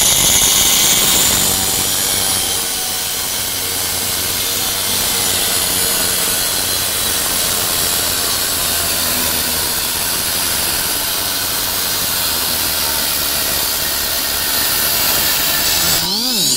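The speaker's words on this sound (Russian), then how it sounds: "вот эта углошлифовальная машина, она же болгарка, которая справляется с резкой кровли" An angle grinder of 1200 watts, part of a three-in-one tool set, cuts through roofing material with a loud, steady high-pitched whine that holds for the whole stretch, with no voices over it.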